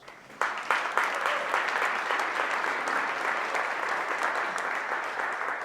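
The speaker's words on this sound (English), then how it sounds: "So give yourselves a round of applause." An audience at a lecture on nature and justice breaks into applause for themselves, starting abruptly with sharp claps and settling into a steady, moderately loud roomful of clapping.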